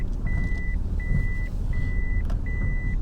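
Interior reversing chime of a Toyota Chaser, a Japanese car, sounding four evenly spaced steady beeps over a low engine rumble inside the cabin.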